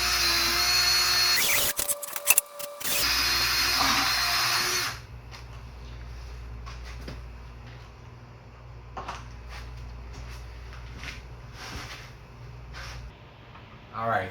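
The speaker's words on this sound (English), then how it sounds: "Pick somewhere in the center about 1 inch down and drill the hole." A power drill bores a hole through a plastic DIY chicken feeder in a loud burst of whirring and grinding at the start, then quieter handling clatter and some talk follow.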